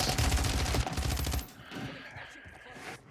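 Rapid bursts of gunfire from a Rebirth Island video game match, loud and dense at first, then cutting off into quieter game ambience with faint talk underneath.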